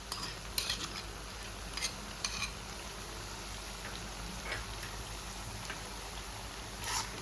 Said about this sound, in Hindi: अच्छे से मिक्स कर लेना है